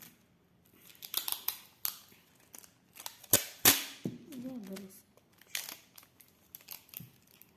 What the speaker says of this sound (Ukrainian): Я все буду відрізати шматочки скотчу і клеїти